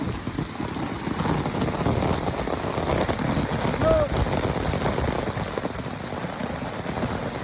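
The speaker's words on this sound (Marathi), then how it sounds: "पावसाचा जोर परत वाढलाय खूप जास्तच वाढलाय" Heavy rain pours steadily, a dense continuous roar of drops drumming on surfaces throughout.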